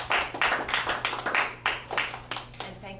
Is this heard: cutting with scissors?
no